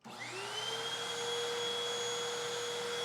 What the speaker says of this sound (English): And the vacuum cleaner measured approximately 1200 watts.